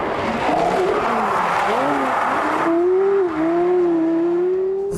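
A Porsche Carrera GT, a two-seat composite supercar, drives with its engine loud and close, the pitch rising and falling through gear changes and then holding a steady high whine.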